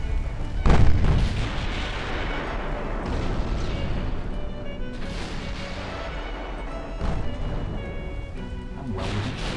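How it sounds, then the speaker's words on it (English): Heavy 8-inch naval guns fire in the Ultimate Admiral Dreadnoughts warship game, one deep booming salvo after another with rolling, crashing echoes behind a continuous din of battle. "I love the sound of those 8-inch guns."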